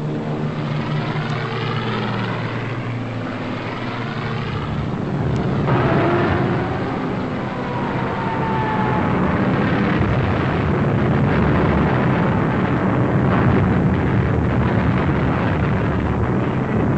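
An aerial bombing raid on civilians during the German invasion of Norway, with droning propeller aircraft engines overhead followed by heavy rumbling explosions, loud and sustained.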